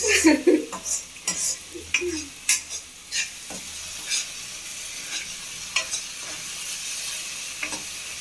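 Ginger and garlic frying in oil in a pan, a steady close sizzle with several sharp stirring scrapes and clinks near the start that thin out later.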